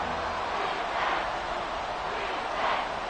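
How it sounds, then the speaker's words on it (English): A football stadium crowd roars in a video game match between the Buccaneers and the Colts, a broad continuous wash of distant cheering that swells twice, steady and moderately loud throughout. "this crowd is making an impact right now"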